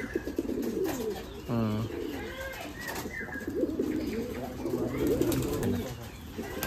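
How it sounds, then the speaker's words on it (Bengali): Pigeons in a loft make soft, rolling coos close by, with one clear burst near the start, while people chat over them and more low cooing runs underneath. "ডাকলে হেভি লাগে না কবুতরটা?"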